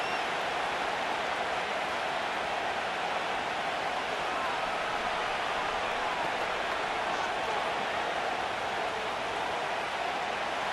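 A large stadium crowd roars continuously in the video game Madden NFL 25 during a simulated Giants vs. Titans football game, a dense, steady wash of cheering noise that holds at an even level throughout.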